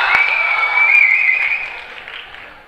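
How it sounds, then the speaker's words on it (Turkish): Arena crowd at a King of Kings Türkiye MMA event applauds the fighters as the first round ends, a broad sustained wash of clapping and cheering that gradually fades toward the end. "Büyük alkışlar sporcularımıza."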